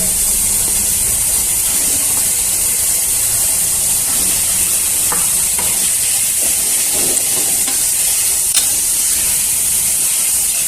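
Prawns go into a pan of frying chili paste, giving a steady bright sizzling hiss with scattered small pops and crackles, close and continuous throughout.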